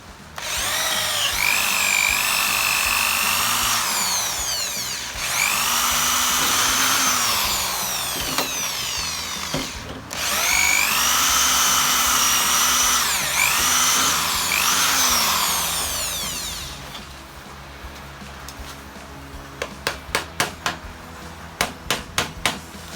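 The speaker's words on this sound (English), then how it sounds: "Now this is a 3/16 drill bit, drilling these rivets out" A power drill with a 3/16 bit whines loudly in long bursts with brief pauses while drilling out rivets on a Hobie Cat mast, then stops and several sharp metallic taps and clicks follow.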